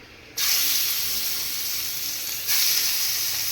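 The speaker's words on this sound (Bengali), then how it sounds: "ওই ফ্রাই প্যানের মধ্যে আবার তেল দিলাম এখন মাছটাকে আমি একটু ভাইজা নিই" Small cut pieces of fish drop into hot oil in a frying pan and set off a loud, bright sizzle that starts suddenly, holds steady, then flares up again as more goes in, with no talking.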